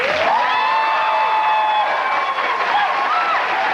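A live comedy audience applauds and cheers as Michael Palin is introduced: a dense, steady wash of clapping and crowd noise with whistle-like tones running through it, loud and continuous for the whole stretch.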